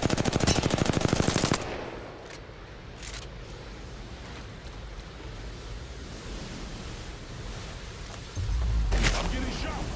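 Rapid machine-gun fire in the battle royale video game Apex Legends, a dense burst of shots at the start, then a noisy lull with scattered distant shots before another loud burst near the end.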